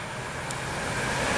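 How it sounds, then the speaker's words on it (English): A Class 66 freight train passes through a station on its way from Felixstowe North to Ditton, a loud, steady broadband roar that builds slightly toward the end. "Next train to go through is a Class 66 from Felixstowe North to Ditton."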